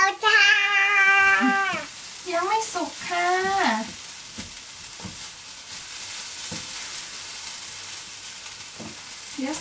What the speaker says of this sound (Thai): เดี๋ยวแม่เอาหัวหอม ไปผัดก่อนนะคะ